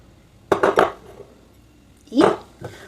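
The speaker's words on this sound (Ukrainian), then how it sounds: "І швиденько-швиденько вінчиком це все розмішуємо" A whisk rattles quickly against a heavy-bottomed saucepan mixing eggs and sugar, in two short bursts of metallic clatter separated by a brief pause.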